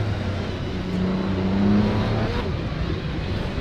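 A Vanwall race car's engine drones steadily from behind in Assetto Corsa, a continuous mid-pitched roar holding one tone with a slight rise partway through, close and unbroken throughout.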